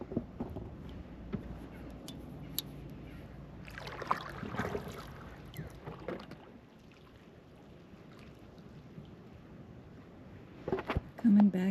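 A solo kayak paddled across Tarpon Bay, with soft splashes and knocks of the paddle close by, faint wind and water sounds, and a voice talking now and then.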